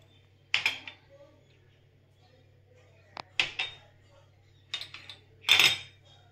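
Mashed potato being mixed with other ingredients in a bowl for an Indian-style cheese sandwich, a few separate bursts of spoon clinks and scrapes against the bowl, close and sparse, with quiet pauses between them.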